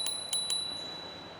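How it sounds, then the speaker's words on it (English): A handlebar bell on a Hiboy C1 folding e-bike rings three times in quick succession, bright metallic dings with a lingering shimmer, close and clear with no talking. "Do have your bell."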